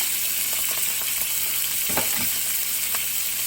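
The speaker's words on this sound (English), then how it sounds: "So just get that butter nice and melted around it." Butter melting in a skillet over medium-low heat gives a steady, close sizzle and crackle throughout, with a few louder pops and bursts in the middle and no voices.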